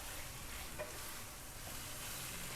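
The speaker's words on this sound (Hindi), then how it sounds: "अब मैं मिक्स कर लूँगी, अच्छी तरह से भून लेंगे।" Minced keema sizzles and fries in hot ghee as it is stirred in a pan, a dense steady crackle that holds close and even throughout with no voices.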